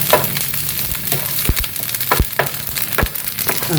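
Pieces of coconut fry on a high flame with a steady sizzle while a spoon stirs them continuously, scraping and clinking against the pan in irregular knocks, close and loud with no talk.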